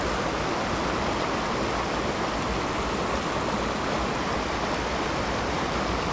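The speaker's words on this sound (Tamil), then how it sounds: "தண்ணி அவ்வளோ ஃபாஸ்ட்டாக போகுது." Fast-flowing water in a mountain stream rushing into a cave-like opening, a loud, dense and unbroken roar of churning water heard up close with no pauses.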